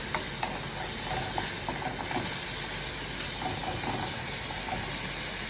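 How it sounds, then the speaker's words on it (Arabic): Raisins are lightly sautéed in a pan, giving a soft, continuous sizzle with occasional stirring clicks, heard close and fairly quiet with no talk. "هاي الطريقة تشويحة بسيطة، يعني الكشمش ما يتحمل"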